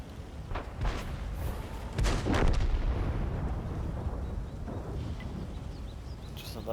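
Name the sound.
artillery fire in World of Tanks video game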